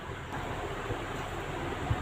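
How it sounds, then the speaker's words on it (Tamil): Parboiled rice for prawn biryani boils in a pot, giving a constant, rushing bubbling noise with a low rumble and no voices. "பாருங்கள் நல்லா கொதிக்குது"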